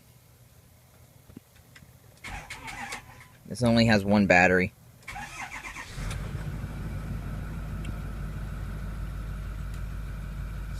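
A Ford 6.4 Powerstroke diesel with two cylinders down cranks, catches and settles into a rough, uneven idle that continues loudly to the end. Someone speaks briefly before it starts.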